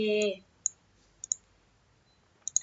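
Computer mouse clicks while working in GIS software on a PC: a short burst of speech, then three or four sharp, quiet clicks spaced apart in a near-silent room.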